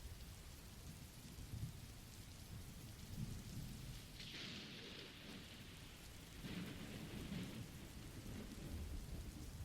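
Steady rain pours throughout with deep rumbling thunder rolling underneath, swelling louder in two bursts midway, with no voices.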